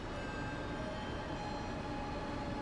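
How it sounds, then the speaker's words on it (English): A South Korean high-speed train to Busan rumbles steadily with a dense low roar and faint high whine, the continuous noise of a train rolling into the platform at close range. "Here is our train to Busan"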